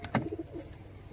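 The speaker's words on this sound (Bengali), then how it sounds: "এটা হচ্ছে একটা সিঙ্গেল নর পায়রা।" A single male Kamagar pigeon gives one short, low coo, close by and alone, fading into quiet room tone.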